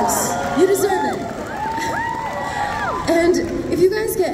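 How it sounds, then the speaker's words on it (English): A live audience cheers loudly with high, excited shrieks and whoops rising and falling in waves, with a little clapping mixed underneath. "Round of applause for yourselves."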